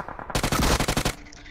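A rapid burst of automatic gunfire from a PUBG Mobile match rattles close and loud for under a second, with single shots just before and a quieter tail after.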